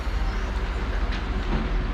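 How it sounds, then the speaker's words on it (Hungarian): A passenger train at Hermagor station in the Austrian Alps gives a steady low rumble with a faint rolling hum, continuous and moderately loud, with no voices. "Ezzel a vonattal érkeztem."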